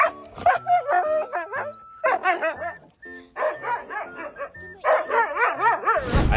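A dog greeting its owner, mixing high whimpers and whines with short bursts of barking and yips, close and loud, coming in uneven excited runs with brief pauses between them.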